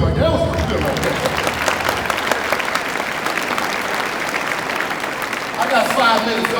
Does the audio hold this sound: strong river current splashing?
no